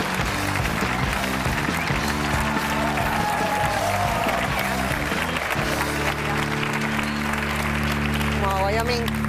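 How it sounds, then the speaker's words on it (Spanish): Studio audience applause on a Spanish television comedy show, a steady clapping wash sitting under sustained tonal music throughout, loud and continuous with no pause. "Bueno, darle un aplauso."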